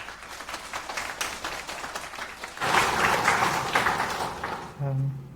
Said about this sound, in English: can we get a warm round of applause for Kartik?